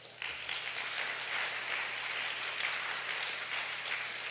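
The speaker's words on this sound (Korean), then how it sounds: "자리에서 일어나 주시면 유성의 뜨거운 박수로 맞이하겠습니다." Church congregation at a Korean worship service clapping to welcome visitors, an even, steady wash of applause from a large room, fairly faint and continuous with a low hum beneath.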